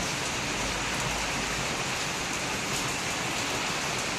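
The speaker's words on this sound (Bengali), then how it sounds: "দেখুন কি সুন্দর বৃষ্টি হচ্ছে, ঝমঝম করে, কি সুন্দর রিদেম।" Heavy rain pours in a dense, unbroken roar, loud and steady throughout with no voices over it.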